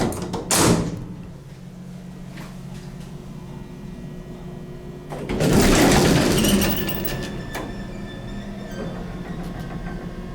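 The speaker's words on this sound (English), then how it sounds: "Love the sound of that door hum." A vintage Otis traction elevator door slides open with a rumbling mechanical hum, a burst of broadband noise midway, then a steady low drone settling under faint room ambience.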